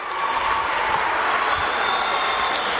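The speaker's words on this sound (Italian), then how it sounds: "vengono benedette dall'applauso del Palasanturu" Applause from the crowd at the Palasanturu arena during a Serie A1 handball match between Sassari and Teramo, a steady, dense wash of clapping that fills the whole stretch at an even level, with no words spoken.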